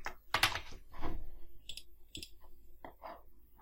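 Light clicking on a computer keyboard while a page title is typed, a few scattered keystrokes and short bursts, faint and close with no speech.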